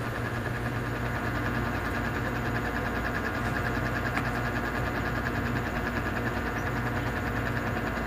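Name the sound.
sewing machine stitching a blouse repair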